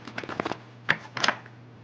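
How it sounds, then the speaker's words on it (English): Tarot cards are shuffled quickly in a few short bursts of riffling and flicking, close and crisp, with a brief pause between bursts and no talking. "Let's shuffle the cards real quick."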